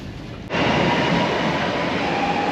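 A train pulls into Santa Margherita Ligure–Portofino station in Italy with a loud, steady rumbling roar heard from inside a carriage. A short sharp thump opens the sound, and a faint high squeal runs beneath it toward the end.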